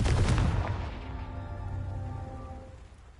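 Confringo, a fire spell cast in Hogwarts Legacy, lands as a loud, near blast at the start, then a long ringing tail of tonal shimmer that slowly fades over about three seconds.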